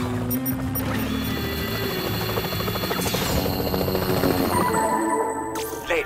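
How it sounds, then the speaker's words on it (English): A cartoon helicopter in the animated series Totally Spies! drones steadily with a rhythmic rotor chop and engine whine, loud and continuous throughout. "Come on, the whoop chopper is waiting."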